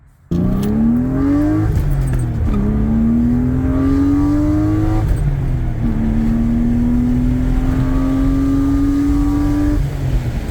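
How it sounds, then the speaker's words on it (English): A BMW E36 engine revs up repeatedly during a test-drive pull after a fuel injector rebuild, its pitch climbing through several gear changes, loud and close from inside the car with no talk. "we're gonna go do a pull and make sure that it passes the RPM test"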